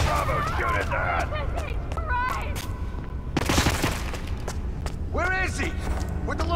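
Gunfire in the video game Hitman (2016), with a loud burst of shots partway through, mixed with shouting voices and other sharp game effects.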